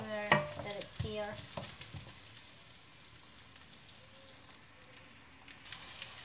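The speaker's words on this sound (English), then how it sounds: "Let it simmer, let it sear." Chicken afritada with carrots sizzling and simmering in a pan, a busy crackle with stirring clatter near the start, then a steady soft frying hiss that stays close and fairly quiet.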